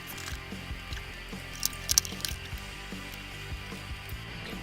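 A ratchet turns 12 millimeter bolts while a power steering bracket comes off an off-road truck, giving faint, quick clicking bursts against a low background hum with no talk.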